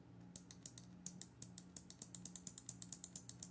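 Sharp mechanical clicks from the button and toggle switches on a COSMAC ELF computer, a steady run of about two dozen close taps, some in quick pairs, over a faint low electrical hum.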